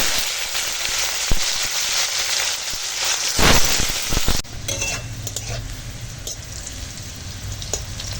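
Bitter gourd pieces dropped into hot oil left from frying lentil dumplings, with a loud burst of sizzling at the moment they go in, then a steady, close crackling fry continuing afterward.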